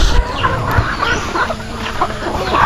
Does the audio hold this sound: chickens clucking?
yes